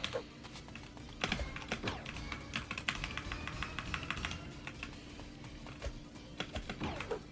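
Computer keyboard and mouse setup used for Roblox on PlayStation, with rapid, irregular key clatter at close range running steadily throughout, sharp clicks bunched into quick bursts with no voices.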